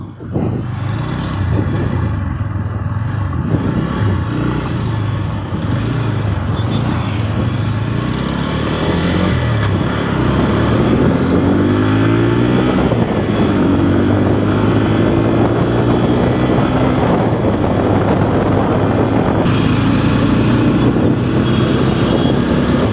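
A Bajaj Pulsar N125 motorcycle rides through city traffic. Its engine drones steadily and rises and falls in pitch as the rider works the throttle, with constant wind buffeting over the microphone.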